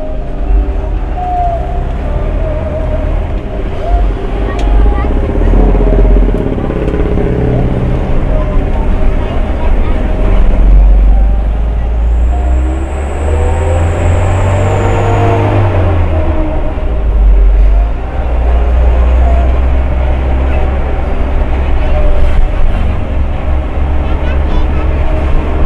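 A medium non-air-conditioned bus drives on the long road from Pontianak to Putussibau, with a steady low engine rumble and road roar throughout, a brief rising whine partway through, and voices talking over it.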